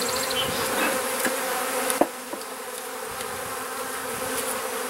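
Agitated honey bees buzz steadily and close during a hive inspection while burr comb is being removed, a dense continuous drone with a few faint knocks and clicks of handling.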